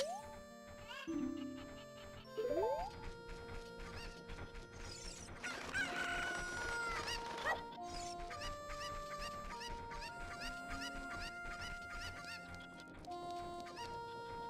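In Zelda: Ocarina of Time, game chickens cluck and a rooster crows amid bright game music and mechanical clicks, with the bird calls fairly quiet and spread across the stretch.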